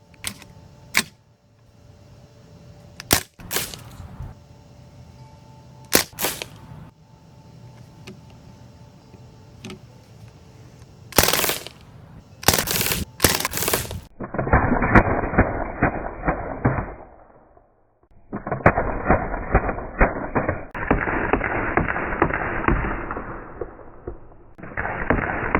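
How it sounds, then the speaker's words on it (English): A Crosman DPMS SBR full-auto BB rifle firing: a few sharp single cracks, then long rapid bursts of buzzing, rattling automatic fire with brief pauses between them, close and loud. "I'm going to do a full auto group, and I'm going to do a couple bursts"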